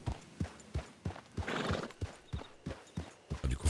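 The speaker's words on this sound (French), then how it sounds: "faut que j'appelle mon cheval déjà" Horse hooves clop in a steady, close rhythm, with a breathy whinny rising partway through and no talking.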